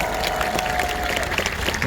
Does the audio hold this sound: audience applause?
yes